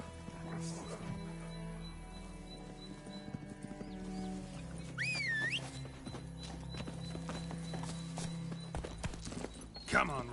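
Roach, the horse in The Witcher 3 video game, gallops with steady clip-clop hoofbeats and a brief whinny partway through, under music and a voice.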